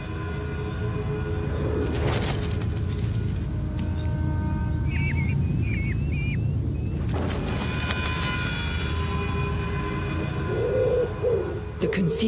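A pigeon gives short, repeated coos close by near a nest of hobby falcon chicks, set against a low rumbling background with a couple of sharp broadband bursts.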